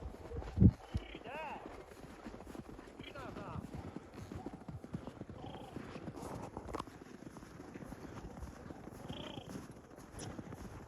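Two Pidhaitsi-bred mares out on a winter walk give soft, irregular hoof clip-clops under frequent talking and calls, with a sharp knock early on.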